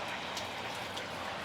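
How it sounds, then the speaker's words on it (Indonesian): Summer hail pelts a garden in Canada as a steady, dense patter of ice hitting plants and ground, constant and fairly close with no talking. "Udah kebiasaan musim panas di sini, hujan es, tapi ini banyak sekali"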